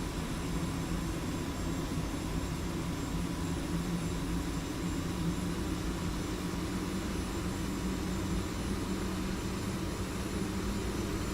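An F-18 jet engine in a flight simulation game roars as a steady, even, broadband rush that holds at a constant level throughout, with no voices.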